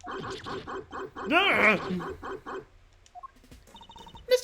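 A video game dog sprite from Ace Attorney Investigations 2, wearing a bell around its neck, lets out a quick rhythmic run of small yaps, then a longer wavering whine, followed by faint tinkling.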